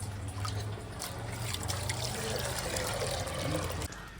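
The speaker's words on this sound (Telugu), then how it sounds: "ఆ కప్పులో మూడు కప్పులు నీళ్ళు పోసుకోవాలి" Water poured from a cup into soaked rice and moong dal for sweet pongal, a steady close trickle and splash lasting a few seconds before cutting off.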